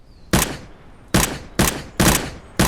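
Unsilenced gunfire in SurrounDead, five loud, sharp shots fired close in a quick uneven rhythm, each with a short decaying tail, no speech.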